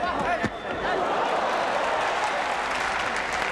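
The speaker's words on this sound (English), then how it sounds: "the crowd there rising to Arbachakov" A boxing crowd at a WBC flyweight title fight cheers and applauds in a sustained, fairly distant roar of clapping and voices after a brief thump at the start.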